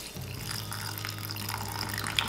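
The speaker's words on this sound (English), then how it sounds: "we're gonna fill it up with water to the line." Water pours from a tap into a Flamin' Hot cheese cup, filling it to the line with a steady close splashing rush that rises slightly in pitch at the end.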